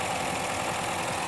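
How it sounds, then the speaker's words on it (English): The petrol engine of a Honda Civic hybrid, started by its electric motor after a battery refurbishment, runs at a steady loud idle with a dense, even hum and no voices over it. "It uses the actual electric motor to start the engine"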